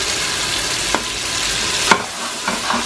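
Garlic, ginger, cinnamon and cumin dropped into onions frying to light brown, a constant close sizzle with a few quick scrapes and clinks of stirring, no voices.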